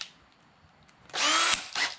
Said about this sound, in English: we're gonna drill our pilot hole